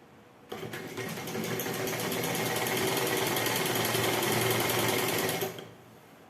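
A sewing machine runs continuously for about five seconds, stitching fabric panels for palazzo pants, its rapid needle clatter steady and close, starting and stopping abruptly with no speech.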